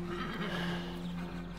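Horse whinnies in a loud, wavering neigh that rises and falls in pitch, standing alone for about a second and a half.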